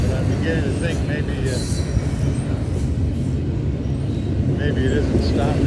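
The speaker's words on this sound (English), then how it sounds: "This is about the time my train should be pulling in here." A train pulling into a station rumbles close by with a steady roar, wheels squealing faintly on the rails as it rolls in, while a person talks over it.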